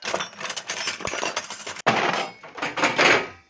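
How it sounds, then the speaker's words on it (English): Processed metallic clanks, clinks and impacts make up the movement of an ancient golem, a dense run of jangling hits broken by a sharp gap before a final loud burst. "I recorded and processed different metallic sounds and impacts for the movement of the ancient"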